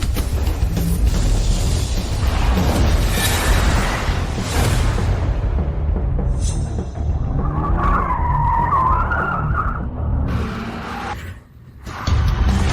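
A fast car racing and skidding, with roaring engine and screeching tyres, loud and close, shifting into squealing tones midway before a brief dip near the end.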